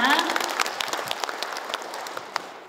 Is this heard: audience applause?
yes